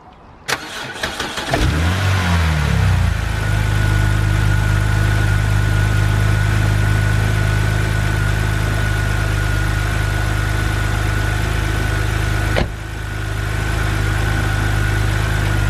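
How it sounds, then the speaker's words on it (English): A BMW engine cranks briefly, catches and roars to life, then settles into a steady, loud idle hum that continues without pause. "Now we'll go ahead and start it up just to make sure we're all good."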